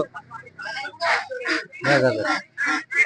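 Ducks quack at a duck market selling local and crossbred ducks, the calls mixed in among steady talk from nearby people bargaining.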